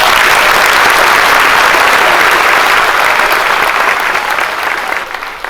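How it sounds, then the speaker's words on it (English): An audience at a cruise ship gala evening on the MSC Euribia gives loud, sustained applause with crowd noise throughout, easing off slightly near the end. "let's have a nice round of applause"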